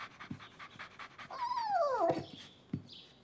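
A small cartoon dog pants quickly, lets out a rising whimper and then gives a short yip indoors. The sounds are close and moderately loud, with no speech over them.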